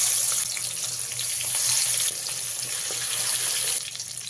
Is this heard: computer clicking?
no